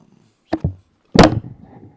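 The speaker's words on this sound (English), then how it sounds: "I just knocked over the mic." A microphone knocked over during a live card-crafting session at a desk, giving two quick thuds followed by a louder clattering bang and a short rattle as it settles, close and loud in an otherwise quiet room.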